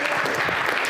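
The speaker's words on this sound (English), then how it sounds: "Hey, round of applause for Benjamin Bock." Audience applause at a live talk event, a dense, steady clapping from a seated crowd that continues evenly throughout the short moment.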